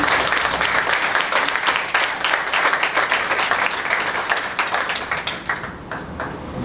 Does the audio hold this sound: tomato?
no